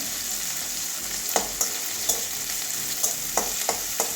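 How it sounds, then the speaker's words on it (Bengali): Sliced onions sizzle steadily in a hot pan, a constant frying hiss punctuated by periodic clinks and scrapes of a spatula stirring, close and without talk. "এভাবে পেঁয়াজটা ভেজে নেব"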